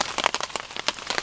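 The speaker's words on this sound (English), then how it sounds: "it started coming down a pretty good rain" Steady rain comes down hard outdoors at an event site, with dense clustered drops pattering on surfaces in an uneven, crackling rhythm, close and moderately loud with no voices.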